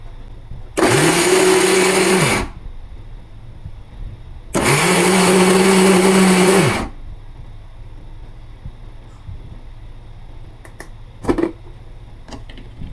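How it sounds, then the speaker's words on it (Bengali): An electric blender grinds fried dried fish into a bharta mash in two loud, steady whirring bursts of about two seconds each. Quiet gaps with a few faint clicks separate and follow the bursts. "এখন আমি ব্লেন্ডার দিয়ে"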